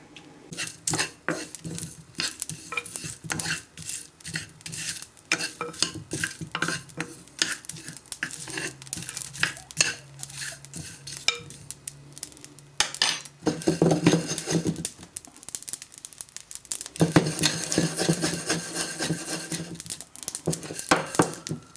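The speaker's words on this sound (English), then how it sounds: "now I have heated up the pan and I'll dry roast it" Spices and salt are dry roasted in a heated pan for a mutton curry, stirred with a utensil that scrapes and clatters steadily against the metal, with dry rustling that grows busier and louder toward the end.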